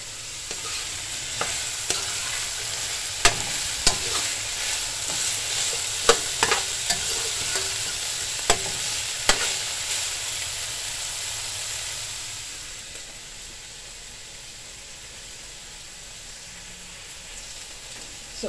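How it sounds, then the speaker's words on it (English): Food sizzles steadily in a pan for a long stretch while being fried for fish head and okra curry, broken by sharp scraping and tapping from stirring, and the hiss settles quieter toward the end. "I'm just frying this up a little"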